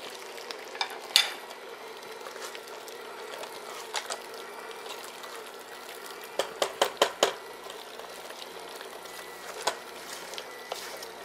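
Pumpkin cheesecake batter mixed in a bowl, a soft continuous stirring swish with scattered sharp clinks of a utensil against the bowl, close by and fairly quiet.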